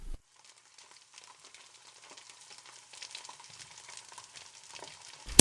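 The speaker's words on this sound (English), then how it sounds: "Pan frying tofu is quick and satisfying." Steady crackling sizzle of tofu pan-frying in hot oil, a soft continuous spatter with faint clinks, no voices.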